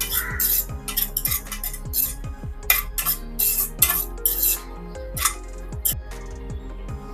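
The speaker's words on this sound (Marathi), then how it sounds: "आता यावरतीच आपल्याला सुकामेवा काढून घ्यायचा आहे आणि अगदी एक ते दोन मिनिटासाठी बारीक गॅसवरती चांगला खरपूस होईपर्यंत परतून घ्यायचा आहे" A utensil scrapes and clinks steadily against a pan as cashews and almonds are stir-roasted over low heat, a close, rhythmic series of metallic strokes with no talk.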